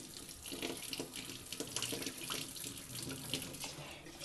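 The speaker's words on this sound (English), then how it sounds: "Now you just put in enough water to cover generously." Tap water runs steadily over rice being rinsed in a sink with a splashy, gurgling rush. It sounds close and continuous, with no voices.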